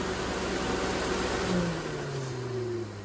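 A car engine runs steadily at idle during an alternator check, then its drone slides lower and fades as the engine is switched off near the end.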